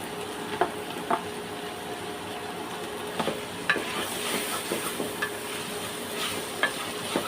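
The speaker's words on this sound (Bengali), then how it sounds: "এখন একটু জিরে পুরো দিয়ে দেব সামান্য" Whole cumin seeds sizzle in hot oil with a steady crackle, and a spoon scrapes and clicks against the pan now and then. Close and fairly soft, with no talk.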